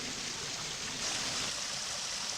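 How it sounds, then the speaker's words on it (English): Soft continuous rush of water pouring out of a culvert on the C&O Canal near Antietam Creek, a faint steady hiss with no other sounds. "Hear the water running."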